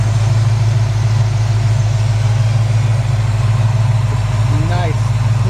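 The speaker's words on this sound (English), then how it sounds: "If you hear this engine." The V8-style engine of a 1963 Chevrolet C-10 Fleetside pickup idles steadily nearby, a loud, even low rumble with a regular pulse that holds throughout, with a brief voice near the end.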